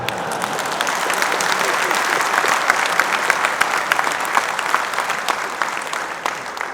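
Small audience clapping at a talk on sustainability and heritage in Jaipur, a brief, scattered patter of hands that stays fairly even, with a voice speaking over it.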